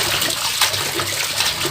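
A bra being rinsed by hand in a basin of water, giving a steady wash of sloshing and dripping with soft splashes, close and continuous, with no talk.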